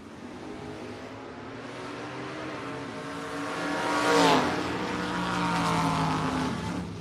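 Drag race cars, a Camaro and a Cutlass, roar down the strip at a 2025 Independence Showdown bracket event, engines swelling to a loud pass with a rising and falling pitch sweep before settling into a steady distant drone.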